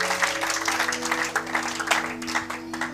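A church congregation claps enthusiastically, a dense, continuous rattle of many hands with a few voices mixed in and a steady tonal drone underneath.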